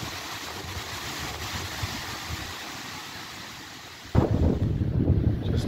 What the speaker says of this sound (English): And it's a tad windy.